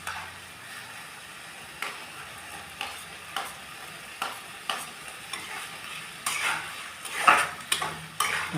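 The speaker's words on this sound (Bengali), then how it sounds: "এবার দিচ্ছি রসুন বাটাটা দিচ্ছি আমি এখানে।" Garlic paste frying in a pan for masala egg curry, stirred with a utensil that scrapes the pan in a steady rhythm of about one stroke per second over a constant soft sizzle, with no one talking.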